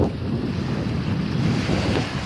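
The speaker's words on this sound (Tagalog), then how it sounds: "malakas na yung alon." Strong ocean waves wash onto a sandy beach near a lighthouse, a steady broad roar of surf mixed with gusty wind buffeting the microphone, with no talking.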